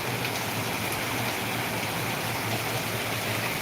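Heavy rain pours down in Ahilyanagar, a steady, dense hiss of water falling and striking surfaces close by, constant and unbroken with no voices.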